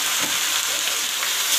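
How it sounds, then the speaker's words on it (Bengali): Chicken pieces hit hot oil and fried onions in a pan, giving a loud, close, continuous sizzle with slight stirring movement and no talk. "পেঁয়াজটা আমি ভাব ভাজা ভাজা হয়ে গেছে, আমি এবার এর মধ্যে চিকেনটা ঢেলে দেবো"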